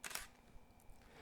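A camera shutter fires once with a sharp, quiet snap, its strobe, an Alien Bees unit triggered by a PocketWizard AC9, going off as the shot is taken, followed by soft handling noise.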